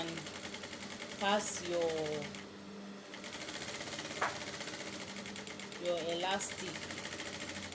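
A sewing machine stitches a reversible hair bonnet, a close steady mechanical whir with brief pauses and speed changes, while someone talks over it.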